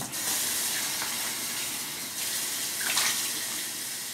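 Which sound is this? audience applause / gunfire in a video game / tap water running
tap water running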